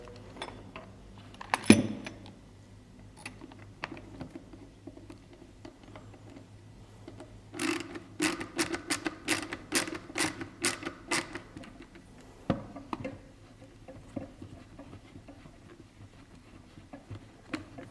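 Metal clicks and ratcheting creaks as a long screw is tightened into a Mamen camera cage, with a sharp knock early on and then a dense run of quick clicks. The sounds are close and handled, with no talking.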